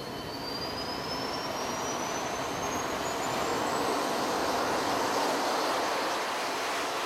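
Steady, loud roar of military jet engines starting up, with a rising whine climbing over the broadband rumble throughout.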